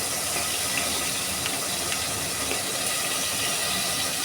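Onions and green chilies sizzle in hot oil for a cauliflower and tomato curry, making a dense, even hiss close by that holds steady throughout without speech.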